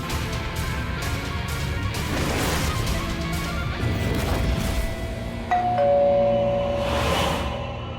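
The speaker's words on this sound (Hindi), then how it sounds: "काहे बार बार घंटी बजा रहे हैं?" An electronic doorbell chimes indoors, a tone sounding near the end, over room noise and knocking-like thuds.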